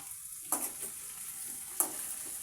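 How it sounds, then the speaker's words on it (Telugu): Potatoes fry in a steel pan on low heat, stirred slowly with a spoon: a steady sizzle with two louder scraping stirs, no voices. "మెల్లగా అయితే కలుపుకుంటున్నానండి అంటుకుపోతుంది"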